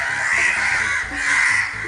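A crow caws loudly and repeatedly in a harsh, rasping series of calls, close and dominant throughout with no other sounds.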